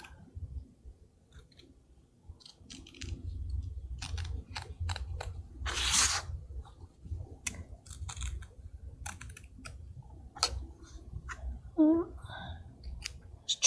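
Scissors trimming appliqué fabric during Bernina machine embroidery, a series of soft close snips and clicks scattered irregularly over quiet background hum, with a voice talking briefly.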